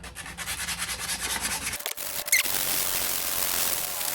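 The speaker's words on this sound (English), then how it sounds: "So I'm gonna sand it down so it'll fit in there. But all I have is 220 grit." An axe handle is sanded with 220 grit sandpaper in rhythmic back-and-forth rubbing strokes, close and steady, shifting to a continuous smoother scraping after a brief pause.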